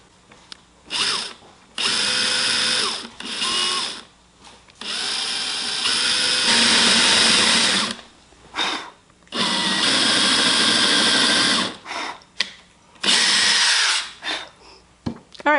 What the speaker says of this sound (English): we've got all the small holes drilled in the arms